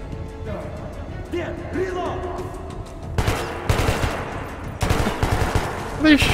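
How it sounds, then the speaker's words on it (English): Bursts of automatic gunfire ring out in the video game Metro 2033 Redux, heavy rapid volleys in two loud stretches after quieter sounds, with someone talking over them. "Are they shooting at each other?"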